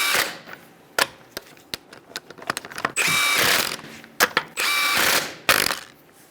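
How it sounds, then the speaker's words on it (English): A ratchet with a 21mm socket snugs down wheel lug nuts on a 2010-2013 Kia Soul, making close, sharp clicking bursts of pawl ratcheting separated by brief clanks and pauses. "Use a 21mm socket. You're going to snug these down in a star-like pattern."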